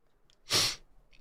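A single sudden sneeze, close and fairly loud, with faint breaths just before and after.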